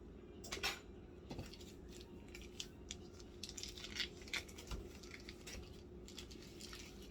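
Cream cheese scraped out of its foil package with a utensil, producing soft scraping and clinking of metal against wrapper and dish, with repeated light strokes and taps close up.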